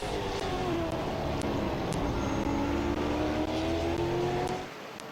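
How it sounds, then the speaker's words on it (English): Race cars roar around the Midvale Speedway track, a continuous dense engine drone with overlapping passes that fades slightly at the very end. "Bryant Smith moves over, lets the 67 go by."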